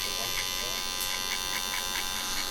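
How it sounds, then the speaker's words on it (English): An electric hair trimmer buzzes steadily and close during a skin fade haircut, a continuous whine with slight flutter as it runs through hair, no voices over it. "Then I'll do my trimmer line again."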